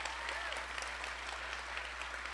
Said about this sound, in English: Join me in giving everyone in the city a round of applause.